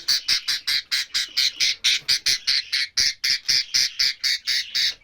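A budgerigar squawks loudly and close by in a fast, steady series of about eighteen harsh, evenly spaced calls with no talking.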